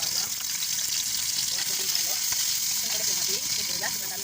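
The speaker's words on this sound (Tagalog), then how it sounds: "Salutin na natin yung ating bawang" Garlic sautéing in a hot pan for chicken tinola and adobo, a steady broadband sizzle and crackle running the whole time, with occasional faint stirring and a quiet voice in the background.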